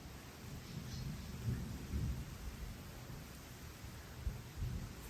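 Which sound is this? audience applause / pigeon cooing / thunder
thunder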